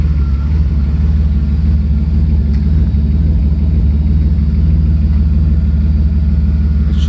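A 1993 Mercedes 600SEC engine with a temporary muffler drones close and loud with a deep, throaty rumble, holding a fairly steady pitch throughout.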